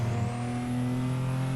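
Toyota Supra in Assetto Corsa at Monza, a steady close engine note holding strong low harmonic tones through a brief run with no voices and no obvious rev change.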